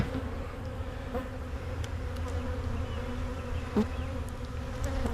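Honey bees swarm around an opened beehive, a dense continuous buzzing close to the listener with individual bees droning past, and nobody talking.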